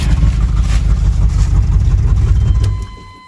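A 1993 Chevy K1500 4x4 truck with a V8 engine runs after sitting for years on bad gas, a loud, close, low rumble that holds steady and then drops away near the end.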